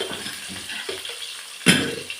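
Brinjal being sautéed in a pan for rasam, with soft stirring scrapes and a gentle sizzle, then a louder clatter near the end, likely salt going in.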